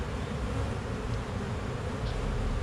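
Honey bees swarm and buzz around an opened hive in spring, a steady dense drone filling the air close by with no pauses or talk.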